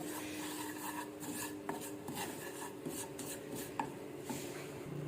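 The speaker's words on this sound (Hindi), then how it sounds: "अब इसको अच्छी तरह जब हिला लेंगे, मिक्स ऑयल के अंदर कर लेंगे" A spoon scraping and stirring spices through oil in a pan for samosa filling, steady close rasping strokes with a few light metallic taps, no voices.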